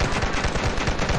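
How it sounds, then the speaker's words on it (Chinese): Rapid machine-gun strafing fire in the zombie game Dead Ahead Zombie Warfare, a dense, loud, unbroken rattle of shots through the whole short burst. "机枪扫射，没说的。"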